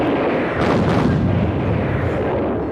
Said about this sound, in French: les soldats américains sont brutalement pilonnés par 2000 canons de l'artillerie allemande.